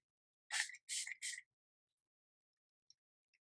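Three quick hissing bursts of a glow-boosting face mist spray in close succession, crisp and near in a quiet room, followed by a couple of tiny faint clicks.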